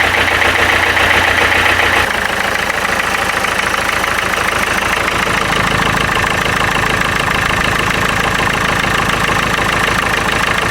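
A Renault Clio 3 engine idles after a restart with the cylinder 2 connection left undone. It runs loud and steady with a rough, rhythmic pulsing throughout and no talking.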